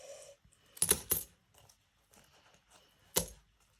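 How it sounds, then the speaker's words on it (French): Coins and cards jostle in a cluttered wallet, a few bright metallic clinks and scrapes of change in short bursts with soft rustling between them, close and quiet. "c'est le souk dans mon portefeuille. J'ai toutes mes cartes qui sont mélangées avec mes pièces"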